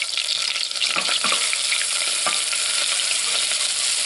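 Garlic sizzles steadily in melted butter in a pan, a dense continuous frying hiss with a few soft stirring scrapes near the start, close and fairly loud with no talking.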